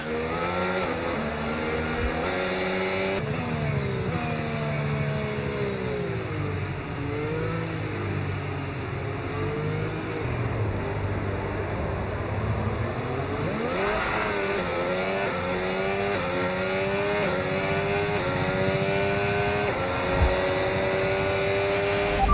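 An F1 race car engine in the F1 25 racing game, heard at the Miami Grand Prix as it leaves the pits: a steady, loud high-pitched whine rising and falling through gear changes as it accelerates, continuous and without talk.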